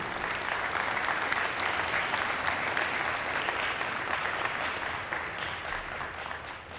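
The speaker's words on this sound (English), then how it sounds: "So how about a round of applause for the parents and family members and the spouses?" Sustained applause fills a commencement ceremony hall as graduates' parents, family members and spouses are honored, a dense steady clapping from a large crowd that fades slightly toward the end.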